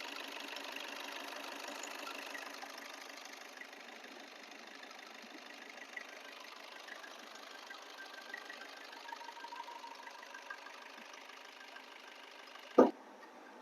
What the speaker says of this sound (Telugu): ఇంజిన్ బీటింగ్ బాగుంది, చాలా బాగుంది.